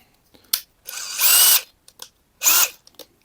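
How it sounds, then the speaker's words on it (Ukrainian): A DeWalt cordless drill/driver spins up in short bursts, three or four quick whirring pulls of the trigger, close and loud with near silence in between, and no speech over it. "Бачите, шуруповерт працює, все нормально."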